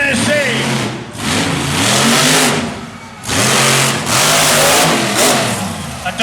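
A truck engine revs hard during a truck pull event in Raleigh, with repeated rising and falling surges of throttle over about six seconds, loud and close, punctuated by brief dips between bursts.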